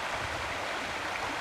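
A clear river in the Pacific Northwest flows with a steady, even rush of water, continuous and unbroken, with no voices.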